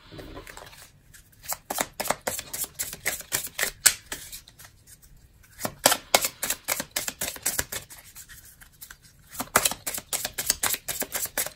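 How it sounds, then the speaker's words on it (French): Tarot cards are shuffled by hand in a long run of quick, papery flicks and riffles, grouped into bursts with brief pauses, close and light, without talking. "C'est reparti pour le mélange des cartes pour le groupe numéro 2."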